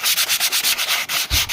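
Sandpaper rubs back and forth across a cast iron air compressor head, sanding the surface flat in quick, steady, loud strokes with a short pause near the end.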